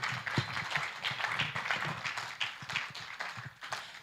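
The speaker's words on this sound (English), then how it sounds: "I think OK Miracle deserves another round of applause" An audience at a 2023 Identity Day commemoration ceremony claps for a speaker, a soft, distant patter of many hands that stays steady for several seconds.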